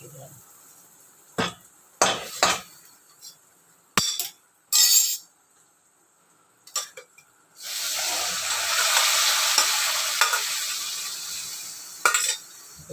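Coconut, curry leaves and chickpeas in a pan start with a few sharp metallic clanks of utensil on pan, then a loud, steady frying hiss that lasts several seconds, with someone speaking nearby.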